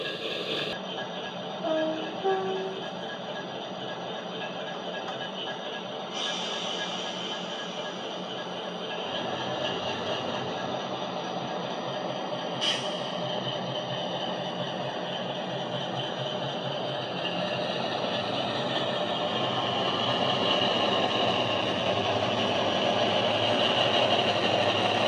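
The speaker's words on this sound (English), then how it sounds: "the throttle stops changing the physical speed of the loco, but changes the engine note" A model Accurascale Class 60 diesel locomotive's sound unit drones steadily with a high whine and shifting tone, running continuously with no voices.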